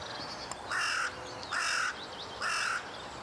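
Three loud, evenly spaced crow caws a second apart, outdoors in an April woodland setting with foxes and deer about, set against steady background hiss with no talk.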